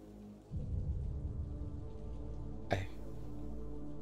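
Steady heavy rain pours down continuously in a video game (Steins;Gate 0), with a sharp crack partway through, like a close thunderclap, before the downpour carries on.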